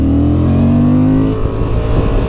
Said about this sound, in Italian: come si spreme questo Transalp, ragazzi